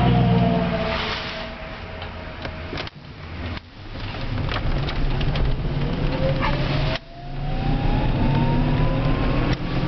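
A car with a newly rebuilt motor accelerates through the gears on an open road, its engine note rising steadily and loudly up close, with two brief dips where the driver shifts.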